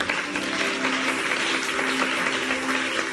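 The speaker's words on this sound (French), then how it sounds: "Est-ce que tu peux acclamer Jésus?" Church congregation applauding to acclaim Jesus during an Easter seminar service in Pointe-Noire: dense, steady clapping with scattered cheers filling the room for the whole stretch, with a faint sustained tone running underneath.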